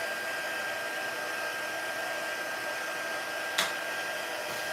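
A heat tool runs continuously with a steady blowing whir while heat-setting a handmade Christmas card, heard slightly away from the microphone, with a single brief click partway through.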